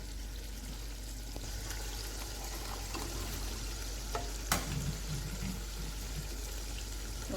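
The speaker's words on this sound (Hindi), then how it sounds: "और मैं इसमें प्याज डालने लगी हूँ।" Beef simmering in a pot for smoked yogurt gosht as chopped onions go in, giving a steady frying sizzle with a few soft stirring scrapes and one sharp clink near the end.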